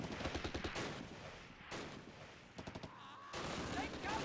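In the Close Combat war game at Arnhem Rail Bridge, gunfire crackles in rapid bursts and rattling volleys, with a mortar team firing amid the faint, continuous battle din.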